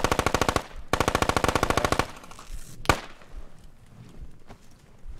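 Automatic gunfire in the military shooter game Squad: two loud, rapid bursts of close machine-gun fire, then a single sharp shot and scattered fainter distant pops.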